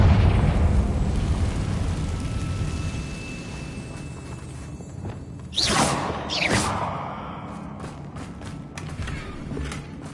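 A Confringo blasting spell goes off in a Hogwarts video game, a sudden whooshing burst and explosive boom rising midway, followed by a second blast and a scatter of sharp crackling debris hits over a rumbling game background.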